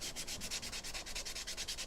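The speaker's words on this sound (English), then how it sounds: "So I'm just using my little sanding disc for this." A small sanding disc scuffs across painted wood in quick, even back-and-forth strokes, a steady rhythmic rasp close up with no talking.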